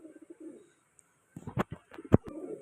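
In a pigeon loft, a short soft coo is followed by silence, then a burst of closer, louder cooing and rustling, with a few sharp bursts near the end.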